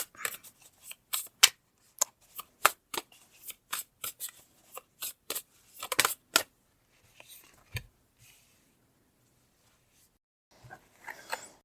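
Tarot cards being pulled and handled give a quick run of crisp slaps and flicks, then a pause, a few softer shuffles, and one last brief handling burst.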